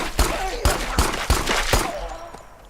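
Rapid gunshots fired at a monster in the Pine Harbor zombie village game, about five sharp, booming reports in quick uneven succession, each ending in a short decaying tail.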